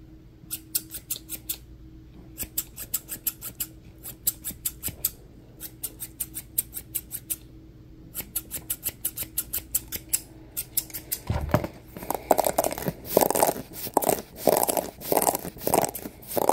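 Scissors snipping hair during a close-up haircut role-play, with quick bursts of crisp metallic snips in rhythmic clusters, followed by denser, louder crunchy cutting near the end. No talking.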